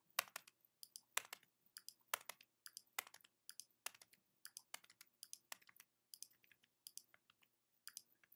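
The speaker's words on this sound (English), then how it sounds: "Click it once and then delete twice on your keyboard." Computer keyboard keys are pressed in a steady run of light, irregular clicks and taps, quiet and close, with no talk over them.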